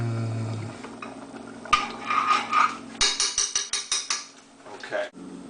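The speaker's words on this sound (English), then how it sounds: "I'm going to stir that, and then I'm going to put a top on that and let it cook slowly." A pot of food with herbs being stirred on the stove, with a rapid series of metallic clinks and scrapes from a utensil against the pot, followed by a lid being set on top. Quiet background hum.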